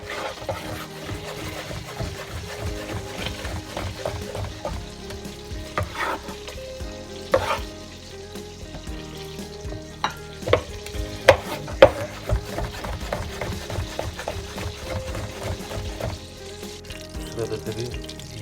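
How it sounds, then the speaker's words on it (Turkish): Butter sizzles and crackles quietly in a hot pan for mushroom soup, a steady low frying hiss with occasional sharper pops and faint clinks. "yağımızdan da tereyağının güzel sesleri gelmeye başladı"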